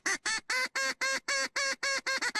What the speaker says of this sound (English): Mallard ducks actually have a language of sorts.